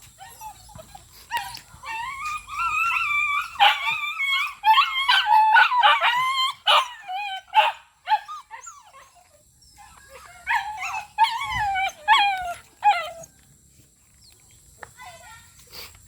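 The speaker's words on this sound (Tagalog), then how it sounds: "Kulit ng mga aso ba?" Dogs nearby bark, whine and let out drawn-out howling cries in long overlapping bursts, pausing briefly before another round of yelps and whimpers.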